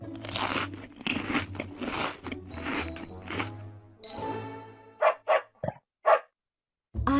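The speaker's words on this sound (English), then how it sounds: "A dog." A dog crunches and gnaws on a bone, with repeated close, gritty chewing crunches, then a few short sharp barks separated by pauses.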